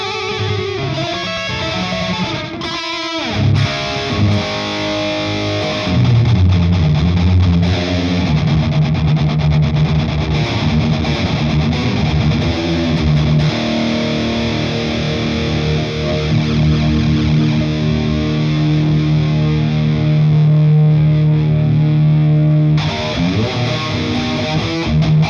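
Distorted electric guitar through a Crate GFX 1200H amplifier head with chorus and reverb, played loud with chords and riffs, sustained and upfront, alone without talk.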